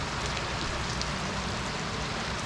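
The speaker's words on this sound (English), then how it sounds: "It's absolutely pouring right now." Heavy rain pours down steadily while fishing outdoors, a dense, loud, unbroken hiss of drops drumming on surfaces close by, with no voices.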